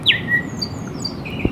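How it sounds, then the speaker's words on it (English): Birdsong from warblers, finches and thrushes in a natural setting: a bright descending whistle opens, followed by scattered thin chirps and tweets, moderately near, over a soft steady background hiss with no voices. "Listen closely as different species of birds join in the chorus"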